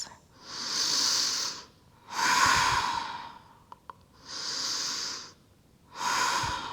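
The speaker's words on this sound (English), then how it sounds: "Deep breaths." Slow, deep breaths during an evening yoga flow: four long airy inhales and exhales of roughly a second and a half each, separated by short pauses, close and breathy, with two faint clicks in one gap.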